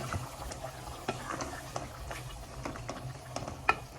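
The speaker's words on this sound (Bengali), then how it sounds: "এখন আমি দিয়ে দিব কলিজাগুলা" Chicken livers going into a simmering curry, stirred with a spoon against the pot: a steady low sizzle with scattered light scraping ticks and one sharper clink near the end.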